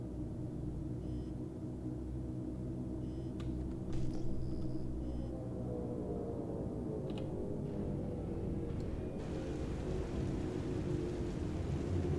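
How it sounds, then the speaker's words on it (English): Rain in the Star Citizen video game, a steady dense hiss layered over a continuous low rumble, with a few brief tonal sweeps and clicks, constant and moderately loud with no voices. "Yeah, it's raining."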